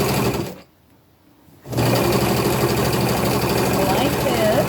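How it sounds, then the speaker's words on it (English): A sewing machine runs a straight stitch through flannel fabric, a loud steady mechanical whir that stops briefly for about a second, then resumes and continues close by. "You could use straight stitch for this."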